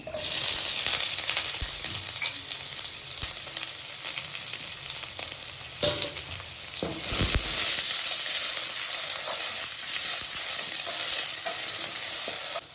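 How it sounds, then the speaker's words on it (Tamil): Chopped large onion frying in hot oil for Indian-style pasta, a steady, dense sizzle that carries throughout, close and fairly loud, with a few stirring scrapes and a brief surge partway through. "ஒரு பெரிய சைஸ் வெங்காயத்தை கட் பண்ணி வச்சுருந்தேன், அதை போட்டுக்கிறேன்."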